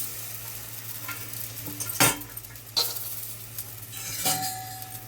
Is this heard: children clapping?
no